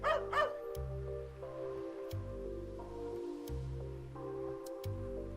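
Two quick, high dog yips ring out at the very start in Chocobo's Mystery Dungeon Every Buddy!, followed by looping, bouncy game music.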